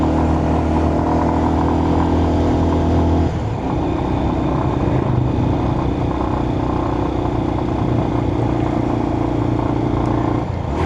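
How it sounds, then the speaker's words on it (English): A 125cc air-cooled carbureted motorcycle labours up a mountain hill in Nepal, its engine droning loud and close with a strained steady note, dropping pitch briefly at a gear change and then holding under load. "Forget it's a 125. Does struggle up the hills."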